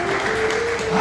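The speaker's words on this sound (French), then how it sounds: "Applaudissez pour toi-même." Congregation applauding during a French-language church sermon, a steady dense wash of clapping that fills the whole second at close, even level.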